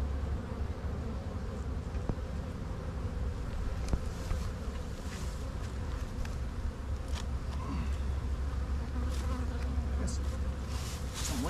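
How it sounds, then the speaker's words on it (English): Light-coloured Italian honey bees in a breeder queen colony hum in a dense, continuous buzz, close and fairly soft, with individual bees flaring louder as they pass near. "So these are Italian bees"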